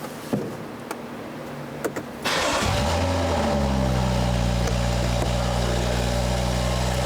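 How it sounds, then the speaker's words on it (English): A BMW F30 335i is started for the first time with its exhaust valve closed: a few faint clicks, then the engine cranks and catches with a quick rev flare before settling into a steady, loud idle. "We're gonna give it its first start up right now."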